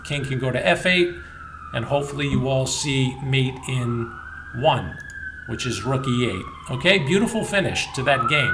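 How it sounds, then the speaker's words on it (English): An emergency vehicle siren passes outside, wailing up and down at a distance beneath someone talking over it throughout. "Maybe you can hear the siren in the background."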